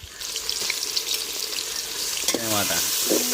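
Onion and green chili frying in oil, a steady broadband sizzle throughout, with a brief voice-like burst near the end.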